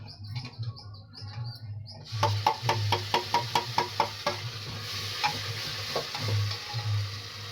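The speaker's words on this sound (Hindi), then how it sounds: "डाल देते हैं टमाटर प्यूरी।" Tomato puree hitting browned onions in a hot pan and frying, with a rapid series of spoon stirs and scrapes over a steady sizzle in a warm kitchen, close up.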